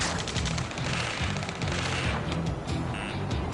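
Gunfire in the jet combat game Ace Combat 7: a dense, continuous rattle of rapid automatic bursts, loud and close, with a low rumbling engine bed beneath.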